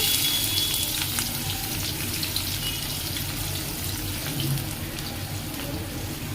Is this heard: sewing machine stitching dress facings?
no